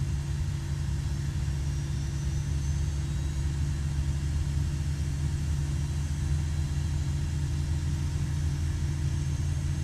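Jet engine of a Leonardo MD80 airliner in a flight simulator game spooling up during start, a steady loud low rumble and whine holding constant throughout with no talk.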